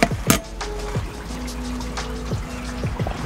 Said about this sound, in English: And you hear it draining down into that?